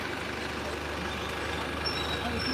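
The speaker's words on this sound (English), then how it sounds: "Jeez, these buses. Okay, it'll be loud" London buses rolling along a street in Notting Hill, a steady loud engine rumble and road roar filling the whole stretch, with faint high brake or beep tones near the end.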